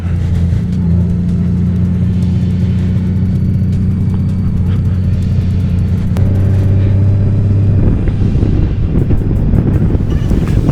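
A flat-six 1,832 cc boat motor drones steadily with a low, even hum under heavy wind and water noise. The pitch shifts partway through as the engine changes speed. No one speaks.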